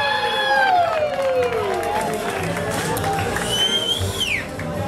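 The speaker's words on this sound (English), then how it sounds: "I want you to give yourselves a round of applause" A bar crowd claps, cheers and whistles at the end of a show, a loud, busy roar of hands and shouting voices with a rising whistle near the end and talk mixed in.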